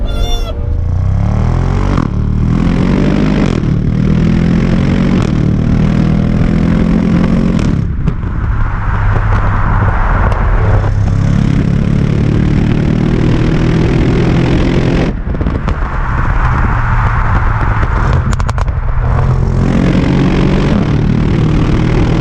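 An Audi RS6 Performance engine in dynamic drive mode roars loud and close, rising through revs in repeated sweeps with gear-change breaks between pulls.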